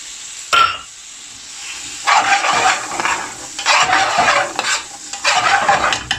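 Fresh tomato, green chili and spring onion fry and get stirred in a hot pan for king prawn bhuna, loud sizzling hiss in repeated bursts with scraping stirs after a sharp clank of the pan, close by.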